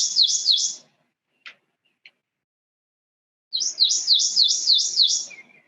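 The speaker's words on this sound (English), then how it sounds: "There's their resonating sweet, sweet, sweet song." Recorded Prothonotary Warbler song is played back as a bright, ringing run of repeated sweet notes in two close bursts separated by a few seconds of near silence broken by two tiny clicks.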